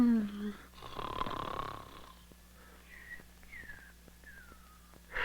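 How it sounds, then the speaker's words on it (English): Cartoon character snoring loudly in bed at night, a drawn-out rasping inhale followed by soft whistling exhales repeating at a slow rhythm, with a voice briefly at the start. "Either stop snoring or cover your head with pillows"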